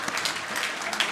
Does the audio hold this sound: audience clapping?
yes